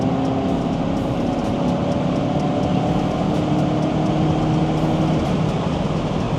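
A Ford Focus RS engine drones steadily at top end in 5th gear on a road trip, loud and constant inside the cabin with road and wind roar.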